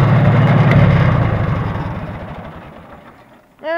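A Farmall H tractor fitted with a loader runs with a loud, low, rough engine rumble that steadily fades and winds down toward a stop, followed by a brief sharp sound at the very end.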